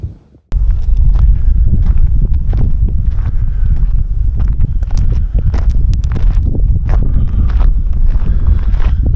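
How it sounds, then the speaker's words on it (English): Strong wind buffeting the microphone on a hike among hoodoos, a loud, constant low roar with gusty rumbling that starts abruptly and continues throughout, with no talking. "No idea if you can hear me over the wind."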